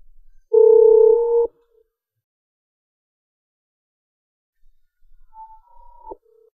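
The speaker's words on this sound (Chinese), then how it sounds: "哎，这怎么不接电话呢？" A phone ringback tone for an unanswered call plays in a Minecraft-animated scene, one long steady electronic beep followed by silence, then a shorter fainter tone trailing off near the end.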